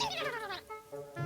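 A pet cat gives two close meows, the first long and sliding downward and the second shorter, against a quiet indoor background.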